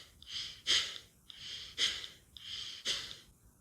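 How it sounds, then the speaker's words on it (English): Three quick, forceful exhalations through the nose during a rapid breathing exercise, each a short breathy puff, evenly spaced and close up, with soft inhales between and no speech. "inhale and exhale quickly through your nose. Do quick but strong exhalations. It should be heard like this."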